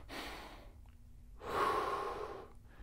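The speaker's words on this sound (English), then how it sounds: "take a big breath in through the nose, fill up the belly, and then exhale" Slow, deep breathing during a stretching and mobility routine: a long inhale through the nose, a pause, then a fuller, louder exhale. The sound is close and clear, with no talk over it.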